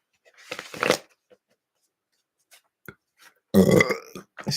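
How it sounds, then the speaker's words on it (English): A person lets out two loud close burps, a shorter one near the start and a stronger, longer one later, with quiet pauses between and no talk. "Spiritual burp."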